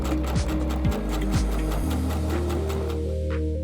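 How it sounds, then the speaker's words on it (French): A domestic sewing machine stitching darts on a skirt, with a steady fast mechanical whir, close and continuous, easing briefly and carrying on at a slightly changed pace. "à la machine, on va venir piquer ici nos deux pinces"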